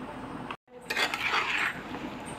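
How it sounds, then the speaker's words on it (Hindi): A spoon stirs mango pickle pieces through spices and oil in a metal pan, giving a steady scraping, clinking rustle close by for about a second and a half after a brief silent gap. "बढ़िया से इसे चलाते हुए मिला लेंगे।"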